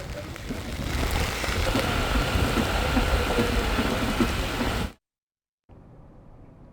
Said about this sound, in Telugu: వికారాబాద్ జిల్లా పరిగి ప్రాంతాల్లో భారీ వర్షం కురుస్తోంది